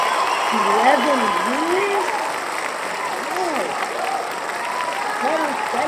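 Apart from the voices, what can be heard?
audience clapping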